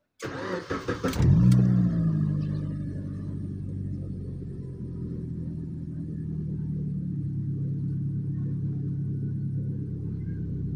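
An older Suzuki Swift with a newly installed booster coil cranks briefly with a few stuttering turns, catches with a rising revving flare, then settles into a steady, close, low idle that runs on evenly.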